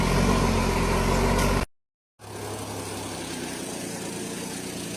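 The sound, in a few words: modified 8-cylinder car engine roaring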